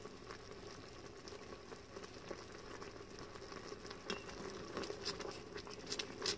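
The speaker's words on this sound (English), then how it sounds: "Let it boil for a little bit." Honey garlic chicken sauce thickened with cornstarch bubbles in an Instant Pot, a steady soft patter of boiling with small pops, faint and continuous.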